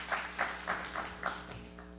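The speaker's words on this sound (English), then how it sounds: "why don't y'all give her a hand clap for coming up here" A congregation claps for a young lady in church: a run of crisp, fairly close handclaps at a steady quick rhythm, about seven strokes over two seconds, thinning out at the end, with no talking.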